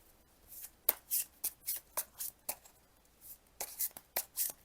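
Tarot cards shuffled by hand in a series of quick, crisp riffles and taps close to the microphone, about a dozen soft bursts in an uneven rhythm with quiet gaps between.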